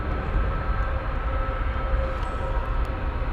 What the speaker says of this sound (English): I wanted to catch this Frontier flight as it landed.